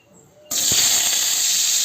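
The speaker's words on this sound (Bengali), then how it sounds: "এবার আমগুলো দিয়ে দেবো তেলে" Cut mango pieces drop into hot oil for a sweet, sour and spicy mango chutney and start sizzling at once, a sudden loud hiss that holds steady.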